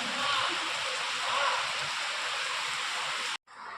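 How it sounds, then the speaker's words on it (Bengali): Steady rain falls outside a home in a broad continuous hiss that holds for over three seconds, then cuts off abruptly near the end, leaving a fainter, thinner wash of sound. "বাইরে বৃষ্টি হচ্ছে।"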